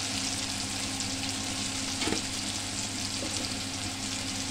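Tomato masala frying in a pan with a steady loud sizzle throughout as turmeric goes in, with a brief stirring scrape near the middle and no voices.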